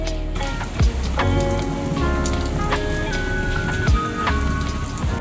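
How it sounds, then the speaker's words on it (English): Steady rain pattering on a surface nearby, with scattered louder drips and taps over the continuous hiss. "it's raining"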